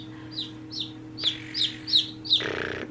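Backyard chickens, including buff Orpingtons and California whites, cluck in a series of about six short, sharp calls over a steady low hum, close and moderately loud.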